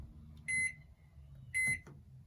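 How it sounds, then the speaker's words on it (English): A microwave oven running on an RV's pure sine inverter fed by a LiFePO4 battery, with a low steady hum under two bright electronic beeps spaced about a second apart. "I'll turn on my microwave real quick."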